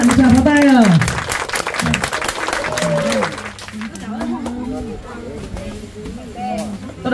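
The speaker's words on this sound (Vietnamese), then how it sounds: "Các bạn thưởng cho bạn một tràng pháo tay." Applause at a Vietnamese family gathering and awards meeting, a crowd clapping loudly at first and then thinning into scattered claps under chatter and people talking.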